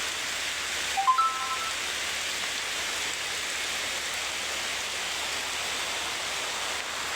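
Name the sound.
rain falling outdoors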